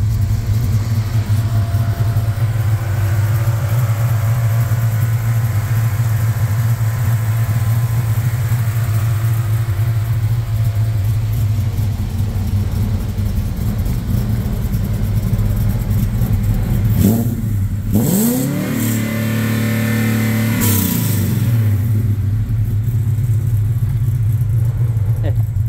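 Ford Coyote V8 swapped into a 1969 Ford F100 pickup, idling with a deep steady rumble, then giving a couple of quick throttle blips that rise and fall sharply near the end.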